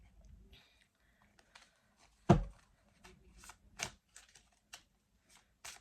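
Tarot cards are handled at a reading, being shuffled and drawn from the deck. The sound is quiet and sporadic, with soft riffles and light taps, plus one sharper knock partway through.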